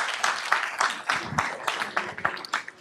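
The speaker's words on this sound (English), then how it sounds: "You got applause." A choir concert audience gives brief, moderate applause, with scattered individual claps rising and falling over a few seconds, fairly near and mixed with some room murmur.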